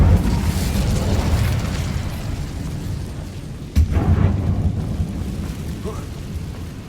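An Incendio fire spell cast in Hogwarts Legacy, heard as a sudden whooshing burst partway through, set against a steady low rumble of game ambience, with a voice briefly audible.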